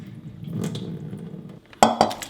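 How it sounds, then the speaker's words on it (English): Water is poured off settled potato starch in a kitchen bowl, giving a short soft splash and trickle, followed by a couple of sharp clinks of a dish or utensil at the end. "let's pour out water only"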